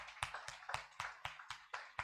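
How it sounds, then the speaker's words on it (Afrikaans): Congregation clapping at a Christmas carol service, a steady, fairly quiet run of hand claps pulsing roughly every quarter second, no voices on top. "Kom ons gaan net vir almal van hulle nog 'n groot hande klap gee."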